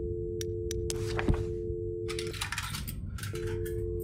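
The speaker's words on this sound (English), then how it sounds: "I had to insert a quarter first." A quarter drops into a payphone slot in a horror video game, giving a sharp metallic clink and rattle, set against a steady low hum and tones, with clicky handling noises after it and no voices.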